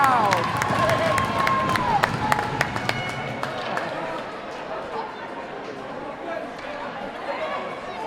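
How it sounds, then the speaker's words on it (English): A hockey crowd claps and cheers after a goalie's save, scattered sharp claps over a rink-wide murmur of chatter, fading slightly as a voice talks over it. "As Chauncey makes a save, much to the applause of the crowd"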